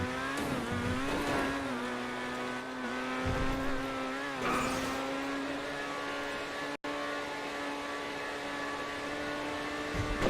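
Unreleased sports car from the Arena Wars update in GTA Online, with a steady engine drone of harmonic layers running throughout and brief jolts as it crosses bumps at high speed.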